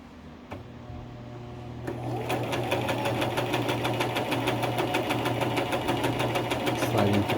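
A sewing machine stitches a pillow, starting after a couple of quiet clicks and settling into a fast, even needle rhythm, close and moderately loud.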